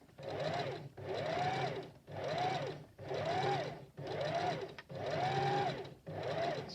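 A sewing machine stitches a small fabric doll in seven steady bursts of running, each a second or so long with brief pauses between, close and clear.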